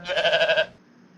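A human voice imitates a sheep, giving a single wavering, nasal bleat lasting about half a second, close and fairly loud, followed by quiet.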